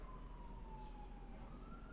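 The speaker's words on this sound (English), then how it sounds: "you hear the sirens, sounds of the hood" A police siren wails faintly in the distance, one long falling tone over low background rumble, heard alone without talk.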